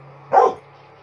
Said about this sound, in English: Are you growling at that cute little puppy?